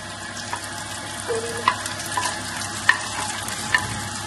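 Potatoes fry with onion and green chili in hot oil, a steady close sizzle with occasional stirring scrapes and small pops, no voices.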